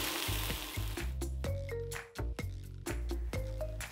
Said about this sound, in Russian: блинчик с одной стороны обжарился, сейчас мы попробуем его перевернуть